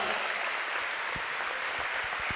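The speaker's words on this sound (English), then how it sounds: "here's the round of applause" Crowd applause at an arena football game as an injured player leaves the field on a stretcher, a steady broad wash of clapping from a distant stadium audience with a few sharper claps near the end.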